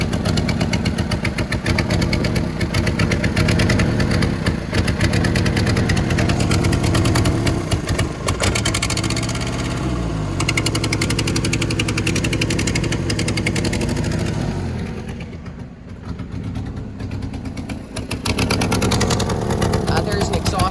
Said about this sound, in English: There's an exhaust leak right here in this area.